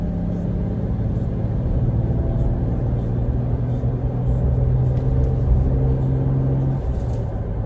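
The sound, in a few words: 2020 Toyota Tacoma V6 engine during test drive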